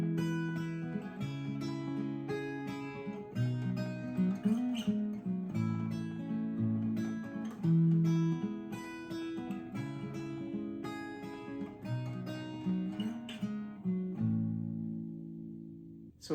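Acoustic guitar plays the outro of a song, a steady strummed and picked passage with ringing chords that continues alone for about sixteen seconds before fading at the end.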